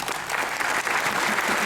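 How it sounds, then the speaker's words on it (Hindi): Loud, dense applause from an audience at a Chartered Accountants Day celebration welcoming the Maharashtra finance minister, sustained steady clapping that swells slightly and holds throughout. "आप विशेष रूप से उनका जोरदार तालियां बजाकर इसलिए स्वागत करिए"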